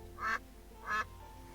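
Two short nasal quacks from a duck in the game Equilinox, evenly spaced about half a second apart, clear and alone over a quiet background hum.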